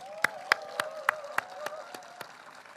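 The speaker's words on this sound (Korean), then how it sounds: "오늘만큼은 국회를 위해서 박수 한번 쳐주십시오" Audience at a ceremony marking the passage of the Daegu and Gwangju airport special laws claps in a steady rhythm, about eight sharp, evenly spaced claps over a faint sustained tone, fading slightly toward the end.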